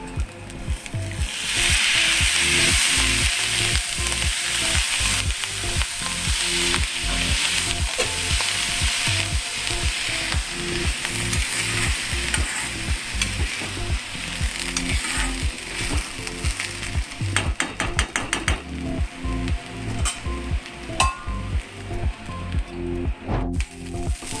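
Rice grit upma cooking slowly in a pan on low heat, a continuous soft sizzle overlaid with steady rhythmic scraping and ticking from stirring, close and alone without talk.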